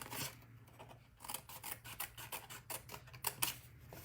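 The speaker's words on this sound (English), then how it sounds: "I'm going to cut up these vertical score lines just to the first horizontal" Scissors snip up the vertical score lines of a paper pillow box treat holder, giving quick, close, crisp cuts in an uneven rhythm of short bursts, with no talking.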